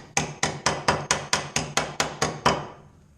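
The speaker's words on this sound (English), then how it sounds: "we're going to be able to just tap the box into the wood and it'll hold it." An electrical receptacle box is tapped into a wood stud with about ten sharp, evenly spaced hammer blows, close and clear, each ringing briefly before the next, with no talking.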